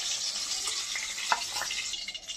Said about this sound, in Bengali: এখন গাজরটাকে হালকা করে একটু ভেজে নেব।